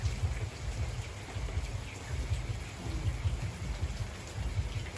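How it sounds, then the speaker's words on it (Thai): Steady rain pours down outdoors during a small family birthday gathering, a dense, continuous hiss with heavy low rumbling patter and no voices. "ฝนตกเดี๋ยวให้เบิ่ง"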